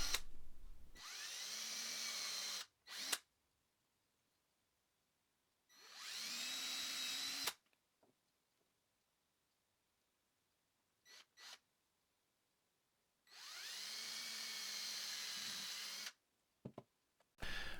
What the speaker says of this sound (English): and then I will just drill them out.